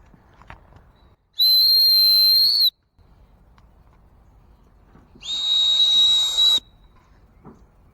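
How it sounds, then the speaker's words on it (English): A 120-decibel emergency survival whistle gives two loud, shrill blasts, the first about a second and a half long and the second slightly longer, separated by a short pause with quiet background between. "Let's check this whistle out."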